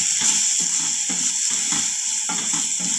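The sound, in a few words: ginger garlic paste sizzling while sautéing in a pan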